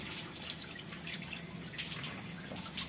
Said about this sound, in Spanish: Luego le ponemos un poco de agua,